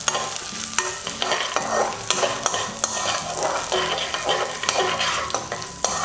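Urad dal and four dried red chillies sizzle and crackle in hot oil while being stirred, with repeated scraping strokes of a spoon against the pan over a steady fry.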